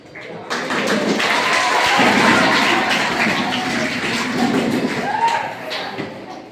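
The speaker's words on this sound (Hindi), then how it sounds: "तालियां बजाई जाती है, 3 तालियां बजाई जाती है।" Audience clapping during a Hindi motivational talk, a dense, loud wash of many hands that swells and holds steady for several seconds before tapering off.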